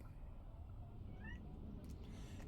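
A house cat gives a couple of faint, short meows against a low background hum.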